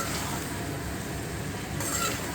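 Shrimp cooking in a pan with potato and flat beans makes a steady, soft sizzle that hisses evenly and continuously, with no talking.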